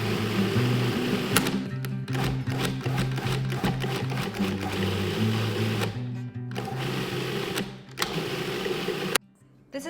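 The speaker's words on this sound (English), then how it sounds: "it's gonna be really hard for the food processor to cut everything evenly. So do it in 2 batches." A food processor shreds phyllo dough for kanafa cheesecake, a loud close motor whir broken by rattling pulses and brief stops, cutting out near the end.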